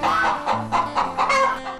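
Several chickens cluck in quick, repeated bursts close by, a lively fowl chatter with no talking.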